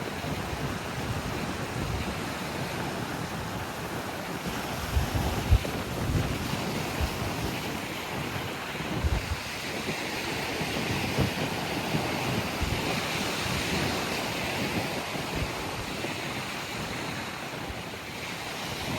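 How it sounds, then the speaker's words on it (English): Waves break on the shore at Littlehampton, with a steady broadband wash and hiss of water draining back through beach stones, plus wind buffeting the microphone; a few louder surges rise from the continuous surf with no speech. "the hiss of water running back through the stones, the wind through the grasses, gulls overhead, and the hollow sound of waves breaking further out"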